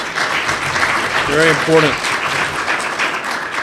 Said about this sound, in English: How about a round of applause for the president of this